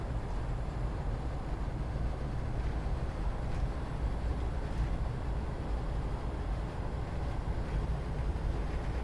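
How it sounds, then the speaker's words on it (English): A diesel multiple unit rumbles along in Train Sim Classic on the Glasgow to Mallaig line, a steady low drone with a passing train, no talk over it. "There's a train. I see a train."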